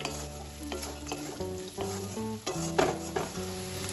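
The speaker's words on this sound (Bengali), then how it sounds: "বাদামটাও তেলে ভেজে নেব হালকা।" Peanuts fry lightly in oil in a pan while shrimp and banana flower are prepared, a close, busy sizzle with stirring clatter. Tonal background music plays underneath throughout.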